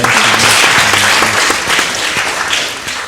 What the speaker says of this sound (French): Je voudrais qu'on applaudisse ça.